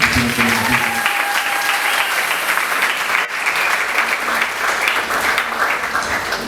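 A church congregation at a Sunday service applauds loudly and steadily, dense close clapping from a large crowd that continues without a break.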